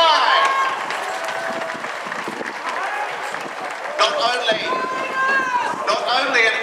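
Crowd cheering and applauding at a castle siege event at Framlingham Castle as the Lady Mahelt rides by on horseback, a dense, steady wash of voices and claps throughout, with a whistle and louder bursts near the end.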